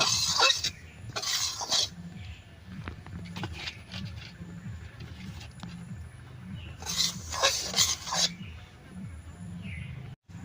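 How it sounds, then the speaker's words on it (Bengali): Half a kilo of semolina being stirred and dry-roasted without ghee in a pan for ripe mango laddu, giving soft, repeated close scraping strokes, with chirping birds bursting in around the stirring. "আধা কেজি আমের মধ্যে আধা কেজি সুজি নিচ্ছি। সুজিটা এইভাবে নালটা করে সুন্দর ভাইজা নেব।"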